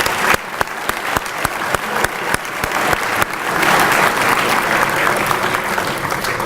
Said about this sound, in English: Let's give one last round of applause for all of our student athletes.